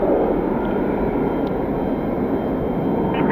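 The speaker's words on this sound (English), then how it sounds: "They are taxiing over to 28 left for departure." Airliners taxi toward runway 28 left for departure, including a United 777 charter and Southwest jets, giving a steady broadband jet engine rumble and whine that stays loud and constant without any talk.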